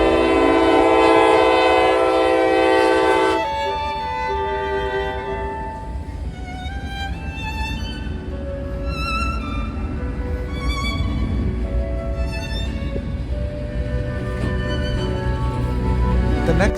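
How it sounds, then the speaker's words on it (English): A train horn blares loudly, then a long eastbound CSX freight train rumbles steadily past up close with continuous wheel and rail noise. "an eastbound CSX manifest with the Western Maryland sticker unit leading the train."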